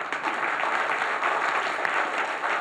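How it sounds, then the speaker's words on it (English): Audience applause at the closing plenary of APrIGF and TWIGF 2024 in Taipei, a steady, even wash of many hands clapping together, close and full for the whole moment with no voices over it. "Big applause."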